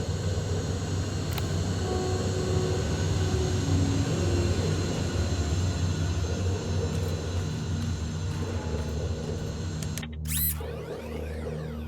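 Skynet HK aerial hunter-killer flying in the Terminator Resistance game, a loud continuous droning engine roar with a sharp burst near the end, no talk.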